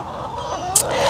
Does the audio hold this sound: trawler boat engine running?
no